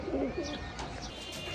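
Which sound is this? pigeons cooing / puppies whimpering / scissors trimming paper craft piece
pigeons cooing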